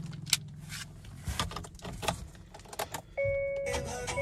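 A Hyundai Creta diesel being locked with its key fob, with jangling keys and handling clicks followed by a sustained electronic beep-like tone from the car near the end.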